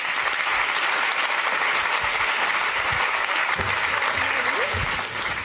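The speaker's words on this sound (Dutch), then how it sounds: "Mag ik als eerste uw applaus voor Mirjam de Blikhoer." An audience at a panel discussion on sexism and business applauds a panel member, producing dense, sustained clapping from many hands that holds steady and tapers slightly at the very end.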